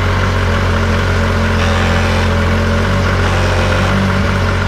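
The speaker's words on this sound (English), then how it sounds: "That's gears grinding" A Yamaha Viper snowmobile with a faulty reverse actuator runs steadily close by, a continuous low engine drone with a rough grinding layer from the gears throughout, with no one talking.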